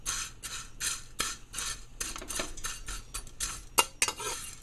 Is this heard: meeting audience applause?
no